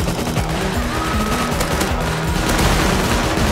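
MP5 submachine gun fire in the Rust video game, a dense, loud rattle of rapid shots that runs without pause, with other game noise beneath and no voices.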